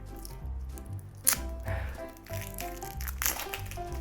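Stiff plastic wrapper on a Mickey Mouse shaped mixed-fruit lollipop crinkles and crackles in several close bursts as it is struggled open, fairly quiet.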